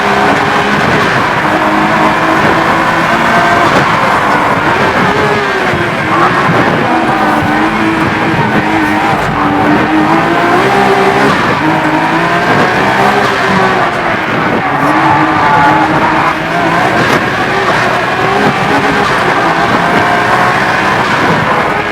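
A Nissan GT-R race car with an RB engine runs a time attack lap, its engine roaring loud and close without a break, rising and falling through gear changes, with faint tire noise and no talking.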